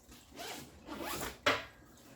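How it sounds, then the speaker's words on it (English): A backpack zipper is pulled in a few quick strokes, ending with a sharp, louder zip, close up with no talking. "See, the zippers are harder."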